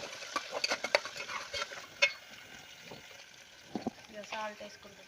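Onions and spinach dal ingredients fry in oil in a pan while a spoon stirs them, with soft sizzling, scraping and occasional clinks against the pan. A voice speaks intermittently over the cooking.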